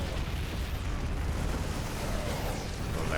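A medevac is destroyed in a StarCraft 2 battle, producing a dense, loud, rumbling wash of explosion noise that continues without a break and with no clear quiet moments.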